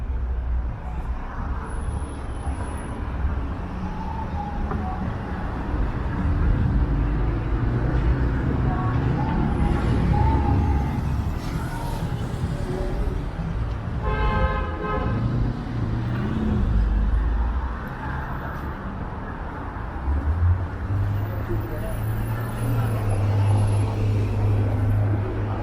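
City street traffic in Toronto rolls past in a continuous wash of car and bus engines, with several brief tonal bursts that sound like horns, and low talk now and then.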